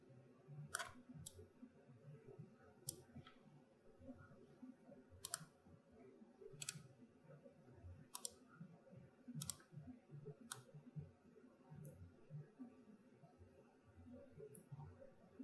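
Sharp, quiet computer mouse clicks sound at irregular intervals, roughly a dozen in all, over faint low background murmur with no clear speech.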